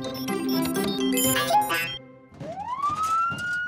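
Cartoon siren effect from a yellow toy-like vehicle in an animated garage scene, a tonal warble that gives way after a short pause to a rising electronic wail, moderately loud with no talking.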